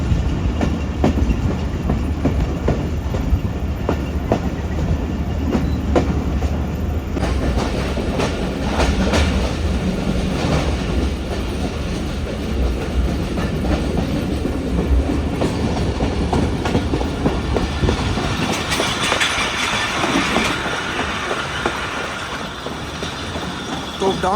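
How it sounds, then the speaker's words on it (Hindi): Bolan Mail passenger train runs downhill between Sehwan and Karachi as the driver brakes. Loud continuous rumble and clickety-clack of the carriages fill the clip, and wheel squeal rises near the end. "ड्राइवर साहब आहिस्ता आहिस्ता ब्रेक्स लगा लगा कर ट्रेन को नीचे की तरफ उतार रहे हैं"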